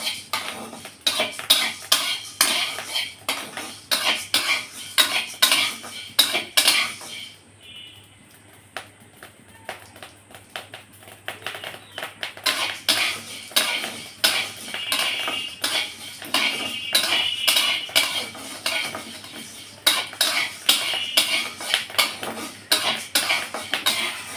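Wheat grains dry-roasted in a pan and stirred for sattu, producing rapid repeated scraping and rattling clatter of spatula and grains, close and busy, pausing briefly midway before resuming.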